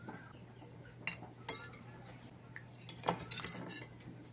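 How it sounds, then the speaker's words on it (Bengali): Boiled eggs dropped one by one into a bowl of cold water while making an egg and potato curry, giving a few faint, scattered clinks and knocks against the vessel over a quiet kitchen background. "ঠান্ডা জলের মধ্যে ডিমগুলো দিয়ে দেব"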